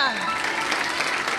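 Applause from a church congregation at a Holy Spirit conference, a steady dense clatter of clapping throughout the short moment, mixed with voices.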